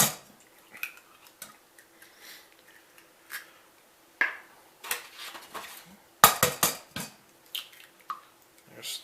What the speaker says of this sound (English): go ahead and crack 2 or 3 eggs in